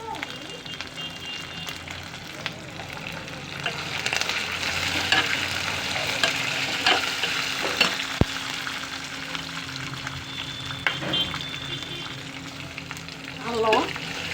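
Green chillies frying in an oil tempering for pulihora, a dense crackling sizzle with intermittent stirring scrapes and clinks over about fourteen seconds, close and fairly loud, with faint background voices.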